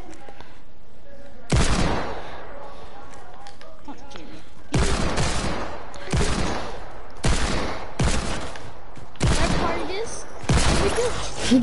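Shotgun blasts in a video game fire in loud, sharp bursts: one near two seconds, then a rapid run of six from about five seconds on, while players chatter over the action.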